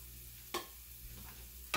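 A spoon or spatula scrapes tablespoon of flour around a frying pan, two brief soft scrapes spaced about a second apart against a quiet, low background.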